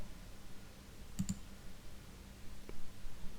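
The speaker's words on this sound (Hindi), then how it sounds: "अब मैंने यहाँ पे क्लिक किया" A computer mouse clicks a quick double click in a Microsoft Excel session, with a fainter single click later over low room hiss.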